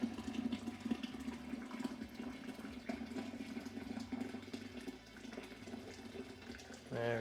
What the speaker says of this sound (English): So in my kettle, I'm just going to pour straight in